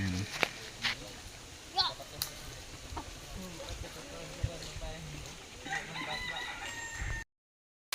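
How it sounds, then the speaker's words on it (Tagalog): Rooster brought down from a mountain farm crowing in a rural yard, a few rising calls with clucks among outdoor noise, farm bustle and voices, before a brief cutoff near the end. "meron kaming dalang manok"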